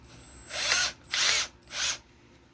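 A power drill boring through wood whirs in three bursts, each lasting roughly half a second with short pauses between, loud and close against quiet background.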